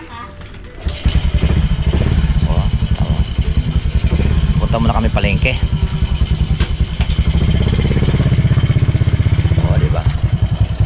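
A motorcycle engine runs steadily close by with a low rumbling idle and some clatter, lasting throughout while a person speaks over it.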